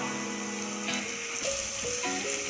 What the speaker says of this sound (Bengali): আলুটা ভালো করে আমি পেঁয়াজ আর মশলার সাথে মিক্সড করে নেব।